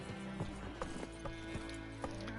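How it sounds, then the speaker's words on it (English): Horse hooves clip-clopping in The Witcher 3 video game, a few distinct hoof knocks spaced irregularly over steady game music, close and moderately loud. "Double click my horse."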